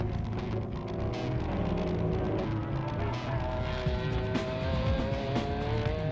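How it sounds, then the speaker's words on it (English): GT300 race cars in the 2002 Japan GT Championship, with the red Autobax Toyota leading, roar past close by, engines rising in pitch through gear changes, one car's whine trailing over another's. "And then the little red Autobax Toyota is back in the lead."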